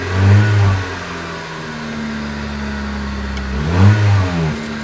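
A Honda Civic engine revs up with a rising whine, holds, drops back, then revs again, loud and close.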